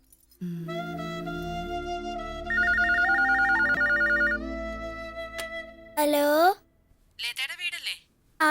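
An electronic telephone ringtone plays a melodic tune of shifting tones, then a voice briefly speaks.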